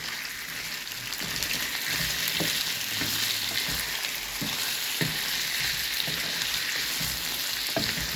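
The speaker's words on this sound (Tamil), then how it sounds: "எண்ணெயில் நல்லா வாடட்டும் மூடி வச்சுருக்காங்க" Chicken with sautéed onions fries in oil in a covered pan for chicken gravy, giving a close, constant bubbling sizzle with faint spatters and small knocks.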